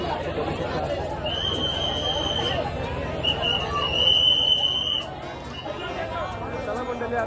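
Dense crowd chatter and babble surround an Ekvira temple palanquin procession at Karla near Lonavala, a steady outdoor hubbub with a high whistle-like tone weaving through for a few seconds.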